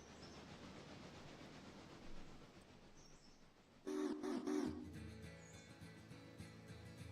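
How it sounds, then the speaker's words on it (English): A long freight train rolls along a railroad track, a low steady rumble broken by a brief, loud horn blast partway through. "That is, in fact, going to be a pretty long train."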